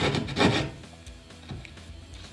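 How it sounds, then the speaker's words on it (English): A keyhole saw rasps back and forth through drywall in short, uneven scraping strokes, fairly close, with no talking. "punch it through, and now you're sawing away"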